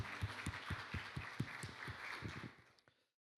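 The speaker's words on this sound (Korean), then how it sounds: "우리 하나님께 감사와 영광의 박수 올려드리겠습니다" Church congregation at a Friday worship and prayer service clapping together in a strong, rhythmic beat of distinct, close claps, about three per second, then tapering off and stopping near the end.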